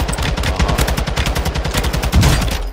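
Rapid automatic gunfire in Call of Duty: Warzone 2.0, a loud, close, continuous stream of shots in an even rhythm lasting the whole stretch, with no talking.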